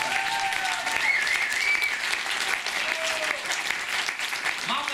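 Sustained applause from a crowd, steady and dense throughout, with a few faint voices and whistles rising above the clapping.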